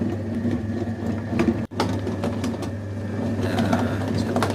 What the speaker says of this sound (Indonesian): pakai mixer ya